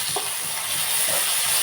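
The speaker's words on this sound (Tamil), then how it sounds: "தக்காளி நல்லா வதங்கட்டும்" Tomatoes sautéing in a pan after ginger-garlic paste, a steady soft sizzle with a few faint stirring scrapes, close and alone without talk.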